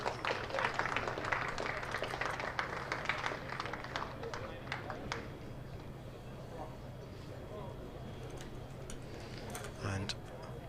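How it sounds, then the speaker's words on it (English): Sparse crowd applause at a county championship cricket match, Gloucestershire against Warwickshire, scattered distant clapping that thins out under a commentator's voice. "Applause for David Payne."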